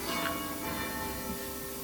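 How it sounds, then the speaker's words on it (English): A church bell chimes faintly in the distance, a soft ringing tone over a steady room hum. "After that bell's now chimed."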